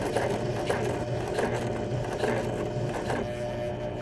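A sewing machine sews a basic stitch with the thread looping as it goes, a close, steady mechanical whir with faint regular clicks, running without a break.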